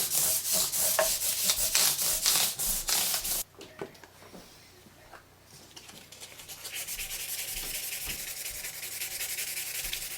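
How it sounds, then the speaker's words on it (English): A Gibson SG Standard guitar finish being wet-sanded by hand with 1000 grit sandpaper, rapid rhythmic rubbing strokes close up, brisk at first, then a short pause and a softer, steadier rubbing. "Now let's hit it with 1000 grit."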